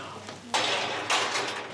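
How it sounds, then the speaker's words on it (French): Dishes and cutlery clatter during washing up in a shared volunteer-run shelter kitchen, two bright clanking bursts over a steady running-water wash, close by. "On fait tous la vaisselle, on met les couverts, on nettoie."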